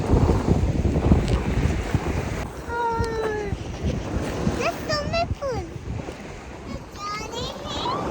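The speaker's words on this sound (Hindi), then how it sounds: "अब अचानक से बहुत तेज़ ठंड हवा चलने लग गई है" Strong, cold wind gusting across a boat out at sea along the Albanian Riviera, a steady loud roar buffeting the microphone, with voices talking over it.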